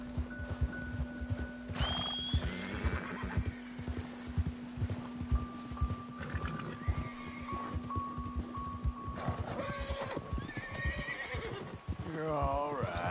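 A horse in Red Dead Redemption 2 gives several whinnies and neighs over a steady clip-clop of hooves, with a low constant hum running underneath.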